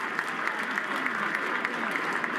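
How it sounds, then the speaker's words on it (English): Applause from a baseball crowd at a Marlins versus Red Sox game as a hit batter jogs to first base, a dense, steady wash of distant clapping with faint crowd murmur. "Gets a nice round of applause as he trots down to first."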